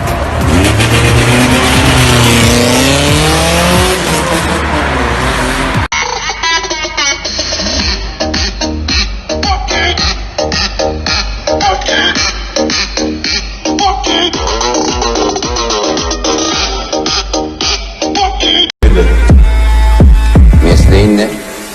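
A Tofaş car revs hard and accelerates with loud, continuous engine roar and tire squeal, the pitch sweeping upward, then cutting to further racing engine noise at high volume.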